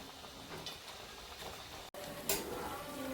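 Dough pieces sweetened with jaggery fry in hot oil in a kadhai over medium heat, giving a steady close sizzle with occasional crackles and brief stirring clicks.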